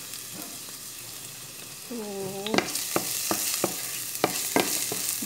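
Garlic sautéing in a hot pan for Filipino ginataang gulay makes a steady sizzle. Scraping stir strokes click through it, louder partway through, with one brief spoken word.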